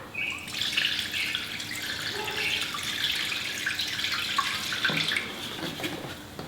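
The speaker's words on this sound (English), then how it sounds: "we're just going to pour a little bit of this into the intercooler" Cleaning liquid poured into a car intercooler, a steady trickling, splashing stream running close and continuous throughout, with a brief clunk near the end.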